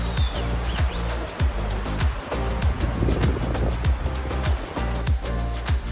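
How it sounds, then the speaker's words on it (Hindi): Loud, continuous rushing of river water in Kashmir, a steady broad roar filling the whole clip with no voices above it. "पानी का शोर इतना होता है कि बहुत ही मुश्किल से लोग एक दूसरे को सुन सकते हैं"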